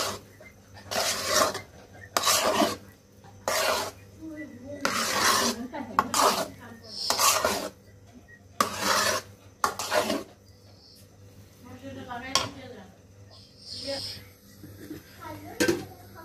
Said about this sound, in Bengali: এটা ভালো করে নাড়তে হবে